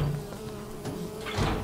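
Bees buzz in the video game Psychonauts 2, a short, close, wavering drone with a louder swell near the end and no voices.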